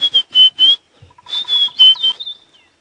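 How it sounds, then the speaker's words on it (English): White-browed scrub robin sings clear, repeated whistled phrases at an African dawn, fairly close and prominent, with a soft faint tapping between phrases. "It's a white-browed scrub robin you can hear going."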